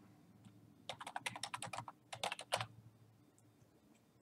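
A short flurry of keystrokes on a computer keyboard while a name is typed into datalogger software, about a dozen close, quick clicks in two bursts, then quiet.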